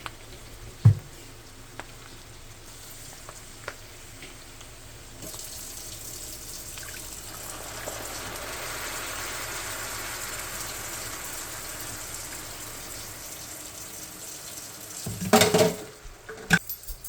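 Kitchen tap running into a cup, a soft steady stream of water lasting several seconds, quiet and close, followed by a louder clatter near the end.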